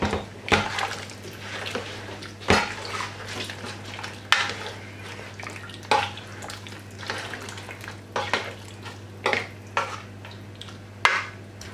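Curried chicken with potatoes stirred in a pot of gravy, with repeated scraping and clacking strokes of a spoon against the pot over a steady low hum.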